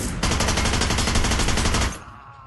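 A rapid, continuous burst of automatic gunfire from a gun in the video game Hitman: Blood Money, loud and close, hammering for about two seconds before cutting off into a fading echo.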